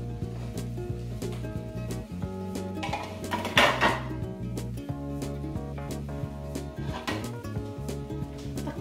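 Metal pot and lid clattering while cooking ginataang tilapia, a clear clang of the lid settling onto the pot, amid steady faint kitchen hum and light scraping of cookware.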